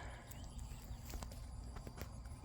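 Goats walk into a farm enclosure, making a faint, irregular patter of hoof steps and light knocks at close range amid soft background rustle, with no talking.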